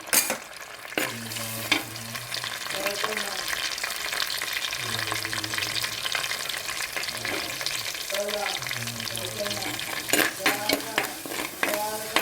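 Crushed garlic, shallots and curry leaves fry in hot oil in a new, freshly seasoned pot, a continuous close sizzle broken by repeated stirring scrapes and a few sharper clinks of the utensil toward the end.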